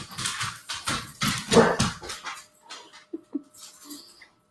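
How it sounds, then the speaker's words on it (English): A small dog and a big dog scuffle and play in the back, giving loud overlapping growls, yips and whimpers that thin out into a few scattered yelps. "my dogs are fighting. They're freaking out back there."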